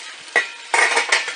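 Bacon crackles and sizzles in a hot pan, with a few louder spitting bursts over a steady hiss; no one speaks.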